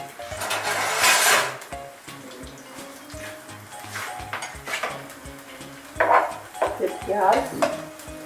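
Garlic frying in sesame oil in a pan with a steady sizzle, broken by clinks of a spoon against the pan and stirring scrapes, with louder clattering bursts near the start and toward the end.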